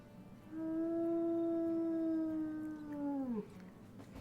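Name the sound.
wolf howl in WolfQuest video game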